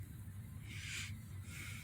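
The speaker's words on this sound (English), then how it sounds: "I release my brakes." Truck air brakes release in bursts of hiss near the cab, two distinct airy hisses over a low idling rumble, with a lighter third at the end.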